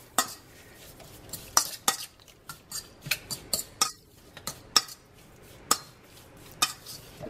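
A utensil repeatedly scrapes and clacks against a cast iron pan as shrimp get tossed with seasonings, making sharp irregular metallic knocks up close over quiet gaps, with no voices.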